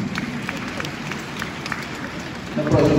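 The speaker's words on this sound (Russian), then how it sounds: "Можно аплодировать нашим спортсменам, они заслужили аплодисменты." An audience at a junior figure skating award ceremony on ice applauds the athletes in steady, dense clapping that fills the arena, with a rising swell of louder claps near the end.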